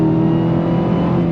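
A 2023 Dodge Challenger Black Ghost V8 pulls hard on throttle in third gear, giving a loud, steady, close engine drone with strong low harmonics throughout, heard from inside the car with no talking.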